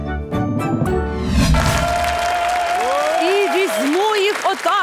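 Studio audience on a television game show breaks into loud applause and cheering, a dense burst of clapping that soon gives way to bright tonal sounds layered over the fading crowd.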